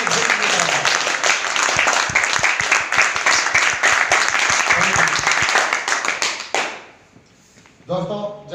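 Audience at a business seminar clapping together in a dense, loud burst of applause that runs for several seconds, then cuts off into quiet before a voice begins speaking.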